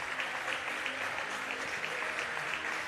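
A futsal championship final crowd between Hertfordshire and Loughborough fills the hall with steady, dense applause, loud and continuous from start to finish.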